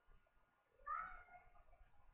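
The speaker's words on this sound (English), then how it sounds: "that is a cat" A single faint cat meow rising out of quiet room noise, brief and at a distance, with no talk.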